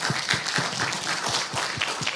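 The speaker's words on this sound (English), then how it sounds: "Let's give a round of applause to these incredible young people." A conference audience at a youth renewable and inclusive energy event applauds, steady overlapping hand claps with a regular pulse forming a moderate, continuous round of applause and no talk over it.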